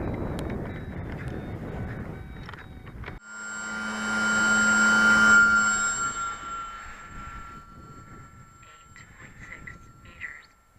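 A Kloudrider model airplane flies overhead with its motor running, a rising and fading engine drone that swells to its loudest mid-pass and then trails away, with gusty wind buffeting the microphone at the start.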